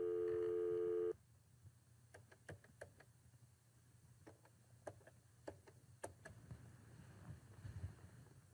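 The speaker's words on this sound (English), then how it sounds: "I'm dialing the phone number." A touch-tone telephone keypad dials a number: the dial tone cuts off, then a string of short, irregularly spaced beeps and clicks follows over a faint background hiss.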